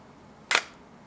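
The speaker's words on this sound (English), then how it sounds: "And I just hit the shutter." A single crisp click of a DSLR camera shutter, close and sharp, in a quiet room.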